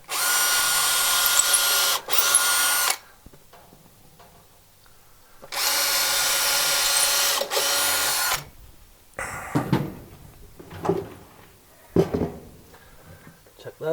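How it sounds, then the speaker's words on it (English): A power drill bores holes into wooden shed floorboards in two loud sustained runs of about three seconds each, with quiet handling knocks and clatter between and after them. "I'm just going to drill a couple of holes in there"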